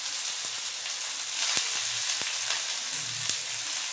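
Sliced onion and green chillies fry in shallow oil, giving a steady close sizzle broken by a few sharp clicks and scrapes of stirring, with no voices.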